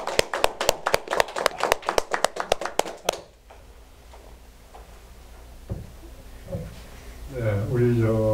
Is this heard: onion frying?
no